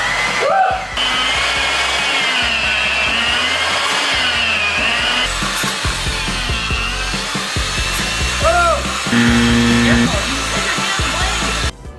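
An electric meat slicer cuts thin slices from a faux roast beef, its motor a loud continuous whir with rasping blade strokes throughout, stopping abruptly near the end.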